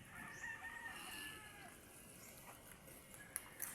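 Chickens and a rooster on a rural farm, faint and distant crowing and clucking over a soft outdoor background hiss, with a couple of brief sharper sounds near the end.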